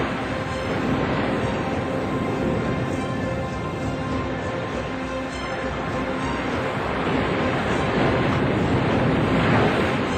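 Heavy ocean waves crash and roar against a Coast Guard rescue cutter, a dense continuous wash of surf mixed with buffeting wind noise, loud and unbroken.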